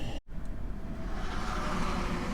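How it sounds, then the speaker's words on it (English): Road traffic passing outside a moving vehicle, a steady broadband rumble that builds gradually after a brief dropout, continuous and fairly close with no talk. "Oh, you gotta love traffic."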